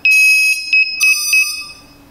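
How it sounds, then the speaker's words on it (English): A series of bright electronic beeps sounds close by from a Walkera F210 drone during transmitter binding, a few short pulses followed by longer tones in an irregular rhythm, then fading. "the beeping that you heard will just continue on the F210"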